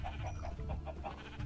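Minecraft sheep bleat several times in a steady run of short, nasal calls over a constant low hum in the game.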